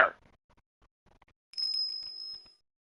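A single bright bell rings in Ace Attorney Investigations, a clear high ringing tone that sustains for about a second and fades, following a short thump and a few faint taps.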